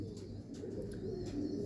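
A pigeon coos softly in a short, low, murmuring phrase against quiet background noise.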